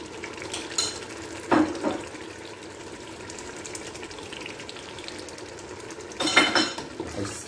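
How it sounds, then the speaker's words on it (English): A spoon scrapes and clinks against a pot while Nigerian stew with dry fish is stirred, giving two short bursts of metallic clatter over a quiet, low simmer. "So I will give it a stir."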